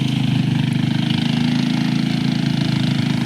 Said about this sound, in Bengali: তুমি খালি বাইকের আওয়াজগুলো শোনো